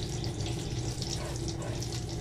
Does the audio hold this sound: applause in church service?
no